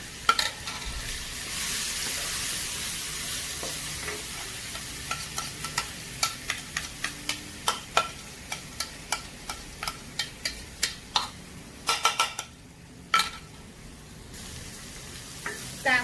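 Coarsely blended ginger stir-fried in a pan for Hainanese Chinese wine chicken, a steady sizzle under a long run of sharp, regular spatula scrapes and knocks against the pan, close and clear with no talking.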